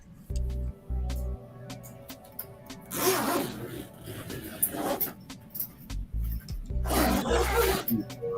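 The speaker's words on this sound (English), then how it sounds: "Zippers." Fabric zipper pulled in several rough bursts, close and fairly loud, with short zipping strokes separated by brief pauses and some low rumbling handling noise.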